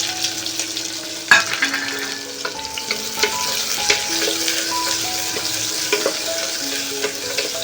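Chopped onion, added after chopped garlic, fries in a pan with a steady close sizzle while being stirred, with occasional scraping clinks of a utensil and no talking.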